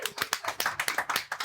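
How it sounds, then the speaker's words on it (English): A small studio audience on a talk show claps in a brisk, distinct rhythm, each hit clear and close, lasting only a moment. "Can we clap for that?"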